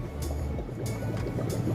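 Hot water pours steadily out of a pot of boiled eggs, a continuous close splashing rush with slight gurgling swells, and no talking.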